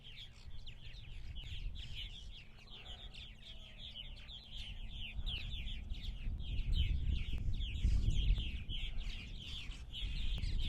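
Purple martins chatter steadily at their nest houses on eastern Long Island on a July evening, a dense run of bright calls over a low rumbling background that swells midway.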